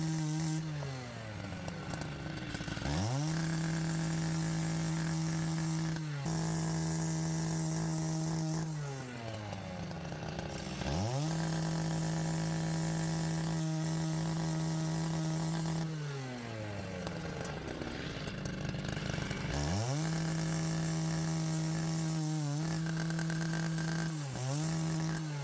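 A loud engine-driven saw cuts metal bed frames into smaller segments. It revs and drops in repeated cycles as each cut bogs down and frees up, and the harsh drone runs continuously and close.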